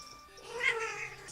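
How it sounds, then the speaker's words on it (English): A cat gives a single short, fairly faint meow, heard close by in a quiet room. "Cat."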